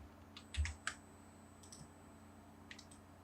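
A handful of faint, close computer keyboard keystrokes and clicks come in short bursts over a low, steady background hum during AutoCAD command entry.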